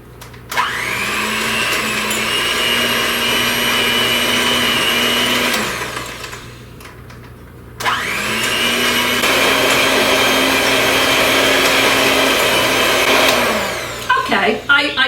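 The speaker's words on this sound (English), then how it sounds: "I'm going to take my mixer. I have it all plugged in here. And I'm going to beat this till it's creamy" An electric hand mixer beats brownie batter until creamy, running in two long, loud, steady whirring bursts separated by a short pause, each spinning up and winding down, with brief clatters at the end.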